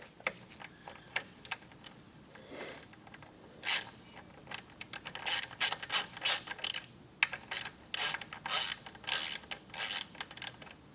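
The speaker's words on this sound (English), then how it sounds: "I've got an 8 millimeter Allen on the end of my ratchet. We can go ahead and remove our oil pan drain bolt." A ratchet fitted with an 8 mm Allen bit loosens the oil pan drain bolt on a Porsche Cayenne 4.8L V8, giving close, rapid clicking bursts in irregular runs over a quiet garage background with no speech.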